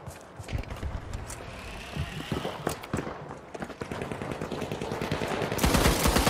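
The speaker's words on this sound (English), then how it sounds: "RPG fired!" Rapid gunfire and explosive blasts in the shooter game The Finals, a dense rattling stream of shots with a louder burst at the end, presumably the RPG launch.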